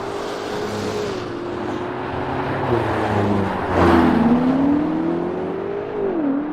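A 626bhp Range Rover Sport SV with BMW M5 power pulls away, its engine note a steady hum that rises and dips as it drives off, close and moderately loud with no talking.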